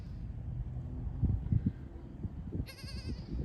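Newborn Kiko goat kids, twins and triplets, bleating on a farm at kidding season, with a few soft low calls followed by one high wavering bleat near the end over a quiet outdoor background.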